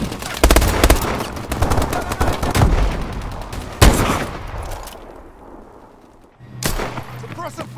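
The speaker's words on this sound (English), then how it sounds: "Suppressive fire!" Loud, rapid bursts of automatic suppressive gunfire in a video game, sustained volleys that thin out and pause before another burst resumes near the end.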